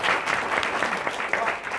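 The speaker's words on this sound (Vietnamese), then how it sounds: "một tràng pháo tay chúc mừng tất cả" A round of applause from a group at a business meeting, a continuous, fairly close burst of many hands clapping with no pauses.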